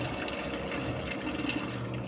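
Water poured over grape cuttings set to soak, a steady, continuous rushing and splashing flow heard close by, loud and unbroken throughout with no talking.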